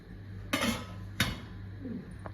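Two sharp metallic clanks of a lid set down on a cooking pot while making jackfruit ada, close and distinct, followed by quiet kitchen background and a faint later tap.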